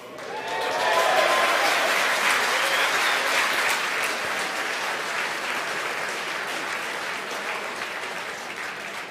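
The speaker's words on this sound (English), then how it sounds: "Again, the applause." Sustained applause and cheering from a crowd at a SpaceX launch broadcast, rising quickly and holding steady after payload fairing separation on the HISPASAT 30W-6 mission, dense and continuous for several seconds.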